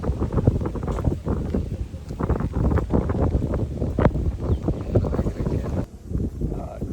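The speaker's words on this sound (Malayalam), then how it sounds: "രാവിലെ നല്ല കാറ്റ്." Strong gusty morning wind in the Periyar forest buffets the microphone with loud, uneven rumbling bursts that ease off briefly near the end.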